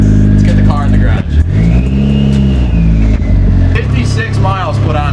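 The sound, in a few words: car driving into the garage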